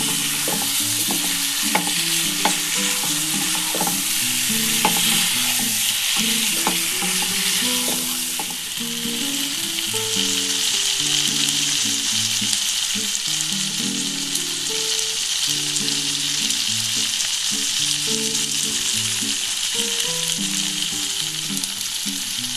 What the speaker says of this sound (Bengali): একটু আমি নেড়ে একটু ভালো করে নিয়ে নেব